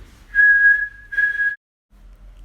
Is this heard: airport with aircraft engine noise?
no